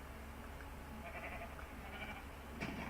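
Sheep on a farm in the Minecraft video game bleat softly a few times over a steady background hum, with no talking.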